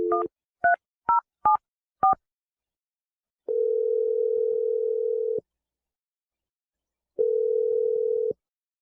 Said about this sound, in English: I'm about to dial the phone number right now.